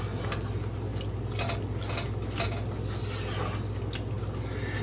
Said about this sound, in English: I'm going to add just enough water to barely even put any water in there